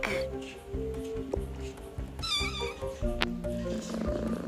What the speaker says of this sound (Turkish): Bizim kedimize bak.